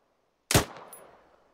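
A single sharp gunshot in the military shooter ArmA 3 cracks loud and close out of silence, then trails off in a short, fading echo.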